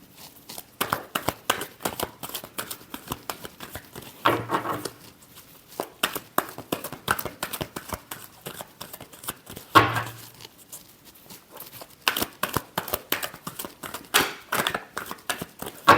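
Tarot cards are shuffled close up in a steady stream of quick papery riffles and flicks, repeated in bursts with short pauses and a few heavier slaps between them.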